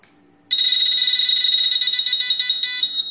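A metal detector target tone, a loud, steady high-pitched electronic beep that starts abruptly after a short quiet moment and holds for about two and a half seconds, close and alone.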